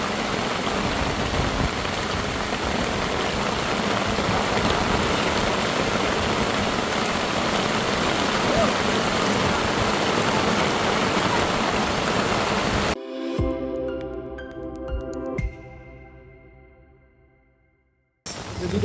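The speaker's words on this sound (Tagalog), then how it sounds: "Kasi lang umuulan oh." Heavy, steady rain pours down with a dense hiss for a long stretch in San Felipe, Zambales, Philippines, then cuts off abruptly, leaving quieter tonal sounds that fade away.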